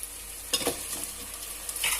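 Chicken pieces with chopped green chillies fry in a pan, giving a close, steady sizzle broken by a few stirring scrapes and soft bursts, with no talking.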